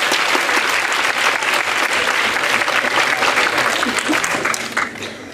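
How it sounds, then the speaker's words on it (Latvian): Audience applause fills a Latvian national youth policy forum panel discussion, a dense, steady clapping from a large crowd that holds throughout and thins slightly at the end. "Bravo, aplaus pašiem tev!"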